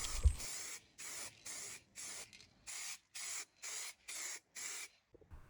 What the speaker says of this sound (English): Now I love these spray cans, extra wide nozzle on them makes spraying an absolute breeze.